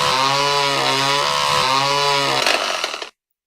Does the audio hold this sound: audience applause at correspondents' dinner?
no